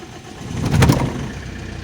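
An Alfa Romeo 156 1.9 JT common rail diesel engine cranks and catches, a short low rumbling surge that swells over about a second and settles into a steady idle, with no talk.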